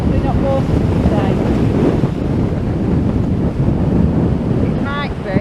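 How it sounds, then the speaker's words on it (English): Wind and surf at high tide along the Blackpool seafront, a constant loud roar of gusts buffeting the microphone over breaking waves, with a few brief squeaky chirps near the end. "I'd come here and film a bit of this high tide for you folks"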